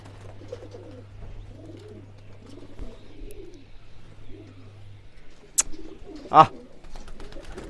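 Pigeons tired after a long flight sit resting, their soft, low coos repeating steadily and close, broken by a couple of sharp clicks near the end.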